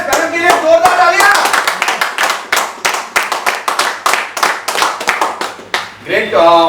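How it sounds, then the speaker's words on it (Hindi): Loud, close rhythmic clapping from a seminar audience for someone speaker, roughly in unison with sharp evenly spaced hand claps, with voices cheering and talking over the start and end. "मैडम के लिए जोरदार तालियां।"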